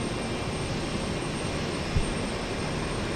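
Jet aircraft engine noise at Houston Intercontinental airport near the takeoff runways: a steady, broad roar that fills the whole stretch, heard from a distance without any talking.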